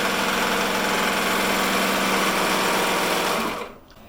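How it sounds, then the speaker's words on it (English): A serger sewing machine running a rolled hem along a cut fabric edge for a napkin, a loud steady high-speed whir that stops abruptly near the end. "start serging at the other cut edge"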